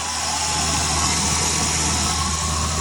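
A car engine idles steadily after a jump start from a dead battery, a constant close hum with a low rumble and no breaks, running alone.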